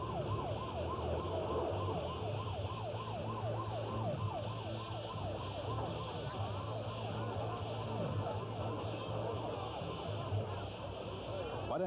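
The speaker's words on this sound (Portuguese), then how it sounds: "os bombeiros e uma ambulância chegam ao local" Wailing sirens from fire trucks and an ambulance arrive at a racing crash, rising and falling quickly and repeating steadily for several seconds, faint and a little distant above a busy background rumble.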